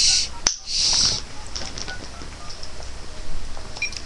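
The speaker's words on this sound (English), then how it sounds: "I dialed the wrong number." A phone number is dialed on a phone, with bright tones and beeps from the handset up close at the start and faint beeps under background noise afterward.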